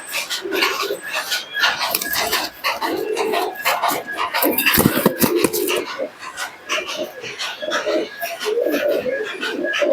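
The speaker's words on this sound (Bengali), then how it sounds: "এই হচ্ছে নর কবুতরটা" A male teddy pigeon coos in low, repeated bursts amid a busy, noisy background of other birds and animal sounds, with the coos rising and falling throughout.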